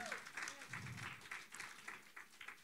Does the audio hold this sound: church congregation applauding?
yes